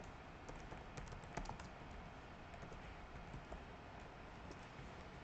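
Soft typing on a computer keyboard while entering Python code in a shell: quiet, scattered keystrokes over a steady background hiss, with no talk.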